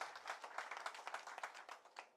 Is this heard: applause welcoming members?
yes